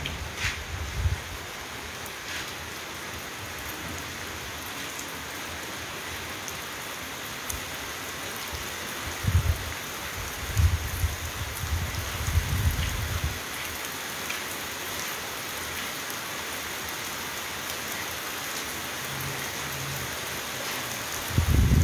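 Heavy rain pours steadily over Casablanca, a dense continuous hiss with a few low rumbling gusts in the middle and no voices.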